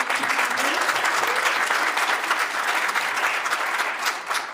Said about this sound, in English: So a round of applause for our panelists and Dr. Shonta.